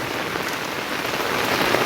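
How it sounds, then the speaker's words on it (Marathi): A heavy unseasonal downpour in the Konkan soaks wedding pandals and covered stacks of wood, a dense, loud roar of rain that stays constant and close. No voices are heard. "एवढा पाऊस किती जोरात आलाय"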